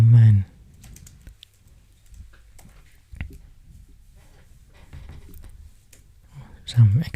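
Code is typed on a computer keyboard in quick, close bursts of key clicks with short pauses, and a few louder thumps stand out near the start and end.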